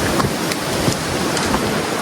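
Steady, loud wind roars and buffets across a microphone on La Mola mountain, a continuous broadband rush with small gusty bumps and no clear voices.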